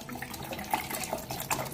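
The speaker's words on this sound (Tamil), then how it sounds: "கொஞ்சம் தண்ணி ஊற்றி" Water is poured from a vessel onto tamarind and salt for a tamarind kuzhambu. The pouring makes a soft, steady trickle and splash, quiet and close, with no talk.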